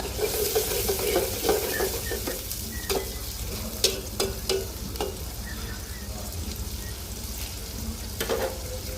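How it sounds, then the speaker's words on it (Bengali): Sliced onion frying in oil in a pan for a chicken curry, a continuous close sizzle with frequent scrapes and taps of a spoon stirring through it. "পেঁয়াজটা ভালো করে ভাজবো"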